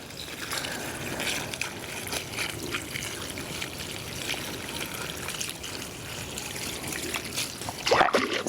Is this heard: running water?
yes